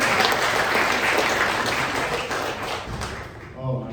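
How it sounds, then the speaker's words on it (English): Comedy club audience applauding during a stand-up set, a full burst of many hands clapping that gradually thins out, with the comedian's voice faintly resuming at the end. "By a round of applause, who's raised teenagers here?"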